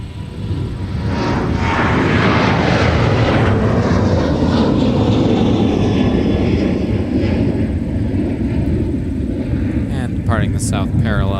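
Aircraft engines roar steadily and loudly at MSP airport, a continuous broad drone that holds throughout, with a brief tonal whine near the end.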